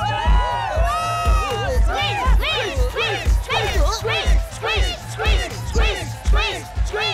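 A cartoon crowd chants and shouts a name in a loud rhythmic chorus under a steady pounding beat, with excited voices rising and falling throughout.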